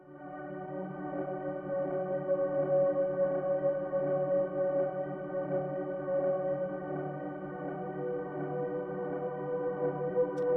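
Creepy, liminal synth chords for a song in progress hold as a dense, sustained drone of layered tones, steady and unbroken for the whole stretch, with no talk.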